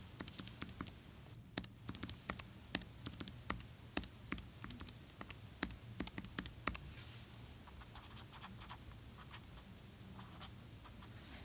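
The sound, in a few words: typing numbers on a calculator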